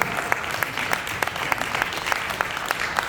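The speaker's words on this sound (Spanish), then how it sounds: "Démosle un aplauso" A church congregation claps together, with many hands and sharp individual claps standing out in a fairly even rhythm over a steady crowd wash, moderately loud and close.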